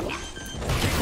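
A turret is destroyed in Valorant, a brief crashing smash with a rising burst of noise in the final half second, following a softer electronic tone.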